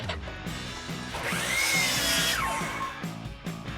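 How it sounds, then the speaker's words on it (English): A miter saw spinning up and cutting a small corner piece of wood for a chair leg repair, a loud whining motor rising through the cut and winding down, with a rhythmic mechanical ticking underneath. "Meet you at the miter saw."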